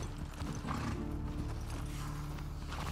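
A horse's hooves clop along close by in The Last of Us Part II, with faint mechanical clicking and a soft whinny over a low steady hum.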